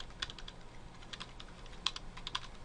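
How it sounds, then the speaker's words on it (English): Fingers tap on a computer keyboard in quick, uneven bursts of light clicks, faint and close, with short pauses between clusters of keystrokes. "a silly video of me typing"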